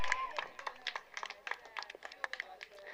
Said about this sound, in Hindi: तालियों की गूंज इतनी जोर से गूंजनी चाहिए कि गालसूर तक आवाज जानी चाहिए